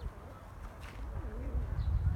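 Pigeons in a breeding coop give a brief, soft, rolling coo over a low background rumble, close by and fairly quiet.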